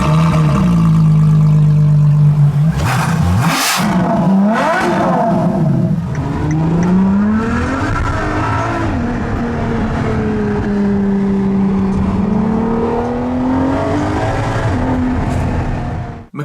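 LaFerrari hypercar with a 6.3 litre naturally aspirated V12 revving hard, a loud, sustained engine howl that climbs and falls in pitch through repeated throttle blips, close and continuous throughout.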